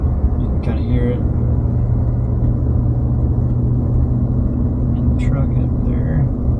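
Steady low V8 exhaust rumble from inside a 2018 Ford F-150 5.0 Coyote with a Flowmaster 70 series exhaust, at wide open throttle, with a deep drone that holds throughout rather than clearly climbing; faint voices briefly surface over it.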